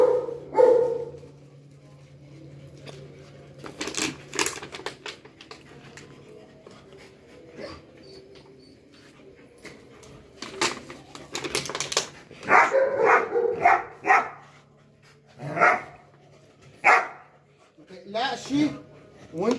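Dogs bark on a farm in short, repeated bursts, with whimpers and yips among them, mixed in with people talking close by.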